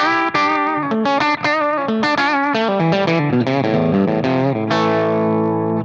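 An electric guitar plays a quick distorted riff through a Wampler Hot Wired v2 pedal, amp-like tone, notes bending and ringing, ending on a sustained chord.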